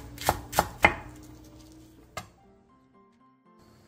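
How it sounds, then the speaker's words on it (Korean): A knife chops green onion on a cutting board: three quick close thunks in a row, then a single later chop, each crisp with short decay, then quiet. "대파는 길게 반으로 가른 뒤 쫑쫑 썰어서 준비해주세요"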